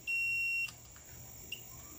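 A multimeter on its continuity setting, checked on a faulty 12V 5A switching power supply, gives one sustained high beep of about half a second and then a very brief chirp, with no talking.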